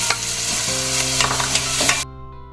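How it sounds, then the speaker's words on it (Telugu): Onions and tomatoes for a soya chunks curry fry and get stirred in a pan, making a dense, steady sizzle with light scraping strokes for about two seconds before it cuts off abruptly. "ఆనియన్స్ బాగా వేగి ఇప్పుడు టమాటా కూడా సాఫ్ట్ అయ్యే వరకు వేయించుకోవాలి"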